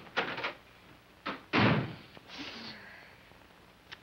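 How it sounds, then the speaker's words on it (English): A door shut as a sound effect in an old radio drama about a household, heard as a short rattle, a brief knock, then one louder thud with a short trailing scrape, close and clear with no overlapping talk. "Slam the door quietly."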